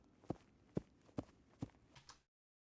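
Footsteps in tennis shoes, about six soft, evenly paced steps recorded close and quiet, each a short muffled thud with no other sound, ending in silence.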